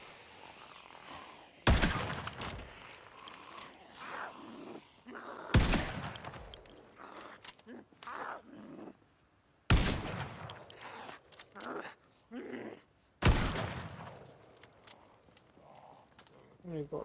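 Four sharp, loud gunshots ring out several seconds apart, each one a sudden burst that stands out over quieter rustling and background activity between the shots.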